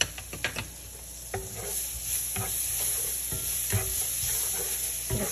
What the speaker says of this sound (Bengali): রসুনটা একটু ফ্রাই হয়ে গেলে